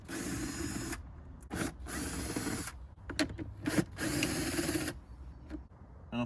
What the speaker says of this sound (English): Then we're gonna take a 7mm socket.